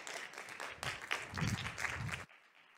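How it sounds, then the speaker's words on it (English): An audience applauds a performer for about two seconds, then the clapping stops abruptly and a quiet room tone follows. It is moderately faint. "a round of applause for none other than Gabriel Gosselin"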